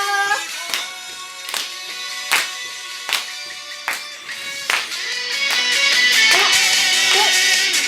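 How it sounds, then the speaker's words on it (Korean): A group claps hands in a steady, evenly spaced beat during a seniors' health exercise routine, crisp claps ringing over an upbeat music track that swells louder toward the end. "자, 박수 치시고요."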